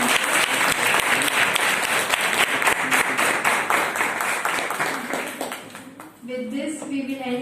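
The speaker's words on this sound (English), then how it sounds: "I would like to request all the participants to give a big round of applause for our guests." Applause from participants at an academic session honouring guests, a dense burst of clapping that gradually thins out and fades, followed by a voice speaking near the end.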